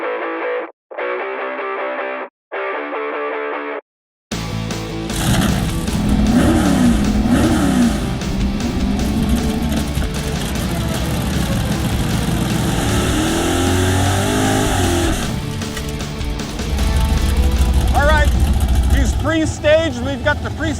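A 1967 Camaro's rebuilt engine revs loudly at a drag strip launch, a sustained roar with rising pitch sweeps near the end, preceded by a few seconds of choppy intermittent sound and overlaid by people talking.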